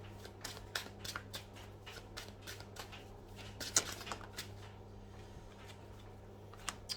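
Brand-new oracle cards being handled and shuffled close by, a rapid run of soft riffling snaps and flicks in a fairly regular rhythm, quiet and without talk, thinning out toward the end.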